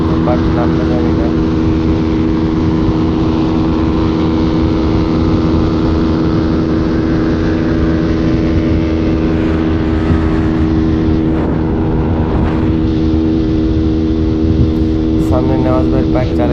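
Several fast motorcycles ride together on an open road, their engines droning loudly and steadily with layered, overlapping tones and a few rising revs, continuous and close.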